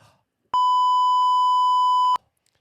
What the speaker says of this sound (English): Be ready to beep